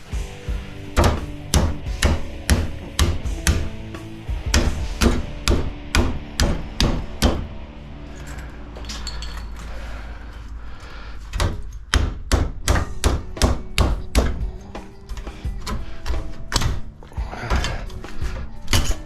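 A hammer strikes repeatedly to knock out copper noodles, giving sharp metallic whacks in rapid bursts with short pauses, close and loud, with no talking.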